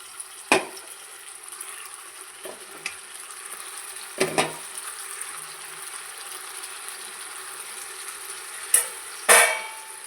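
Chicken turned in a pan while it cooks, faint sizzling running throughout, broken by a few sharp scrapes and clatters of the spoon, with a louder burst near the end and no talking.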